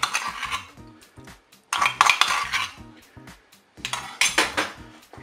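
A utensil stirs crème fraîche into pork roast cooked in cider in a Cookeo pot, giving three bursts of metallic scraping and clinking against the pot with short pauses between.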